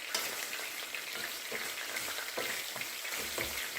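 Chickpeas fry in hot oil in a narrow pot, giving a steady, dense sizzle with soft crackles and occasional stirring scrapes throughout, close and unbroken, with no voices.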